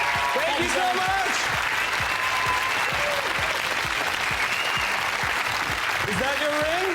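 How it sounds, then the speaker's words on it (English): An audience gives a steady round of applause, dense even clapping sustained throughout, with voices talking over it. "Let's give it a round of applause."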